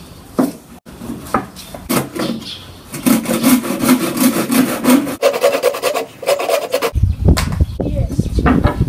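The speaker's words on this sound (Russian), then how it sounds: "сейчас мы будем рубать вот эту палку" A wooden stick for a birdhouse is sawn by hand, giving close, rhythmic rasping strokes in a steady back-and-forth pattern, with some scraping and knocking and voices at times.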